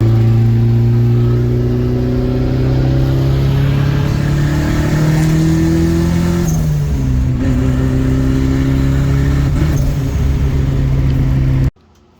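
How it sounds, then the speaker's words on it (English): A turbocharged Ford Falcon drives along with its engine droning loudly from inside the car, revs rising and easing, with faint turbo whistle and spool over the steady motor, cutting off abruptly at the end. "So, yeah, it makes turbo sounds."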